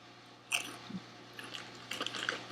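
Faint close-up crunching and chewing of Lay's dill pickle chips eaten with pickle dip, a few crisp bites followed by softer mastication.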